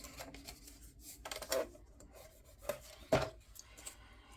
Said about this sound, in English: So I'm going to go ahead and burnish this pocket out.